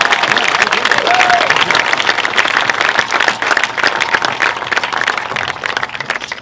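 An audience at a Dodgers fan event applauds Dodger alumni in a dense, sustained burst of clapping with some cheering, loud and close, fading slightly toward the end.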